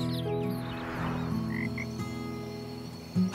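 Frog croaking in a children's storybook setting, a continuous low rasping call with steady pulsing, close and clear under soft musical tones.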